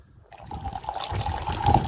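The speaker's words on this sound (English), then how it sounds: "add a little water to settle the grounds" Water trickles and splashes as it is poured into coffee that has been bubbling on a camp brew for about ten minutes, settling the grounds, with a steady close pour that swells louder toward the end.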